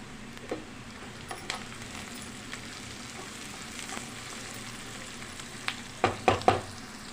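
Mint leaves sizzling in a pan during preparation of an Andhra-style chicken curry, with a continuous low fry, scattered light stirring taps and a cluster of louder spatula clatters near the end.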